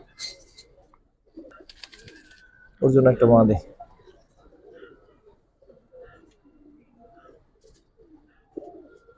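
Giribaz pigeons coo on a rooftop loft in one loud, close burst of throaty cooing near the middle, with faint bird sounds and someone talking before and after.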